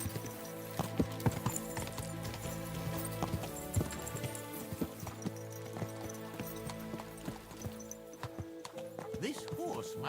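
Horse hooves clip-clop in a steady rhythm over a layer of background music, with a short whinny partway through, in the video game Kingdom Come: Deliverance 2.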